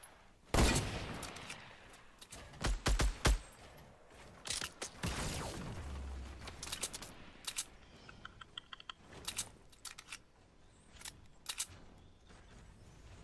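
Fortnite gunfire during a duo match, a series of sharp shots and quick bursts scattered irregularly, some loud and close, others fainter, with clicking in between.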